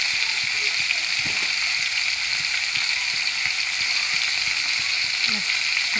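Tilapia fish fries in oil, giving a loud, steady close-up sizzle with small bubbling crackles throughout and no speech.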